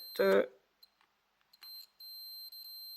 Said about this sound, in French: Patte 1 et 3, déjà, ça bip.